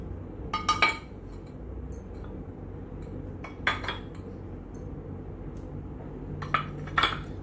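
A ceramic plate and tableware are handled in a home kitchen, giving three distinct bursts of sharp clinks and rattles spaced a few seconds apart over a quiet room background.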